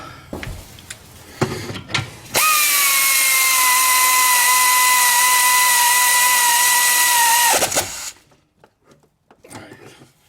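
A power tool runs steadily for about five seconds while tightening the brake caliper bolts during a rear brake pad change on a Chrysler 200. It gives a loud, even whine, with scattered clunks of handling before and after.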